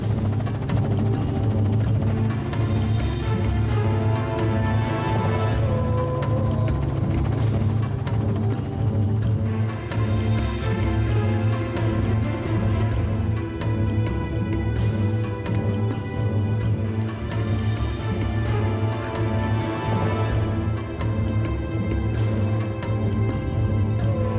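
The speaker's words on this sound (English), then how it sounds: "the choppers go in search of the last rhino" Helicopter rotors drone steadily and loudly throughout during a rhino capture at Grootegeluk coal mine, a constant thumping hum with no voices.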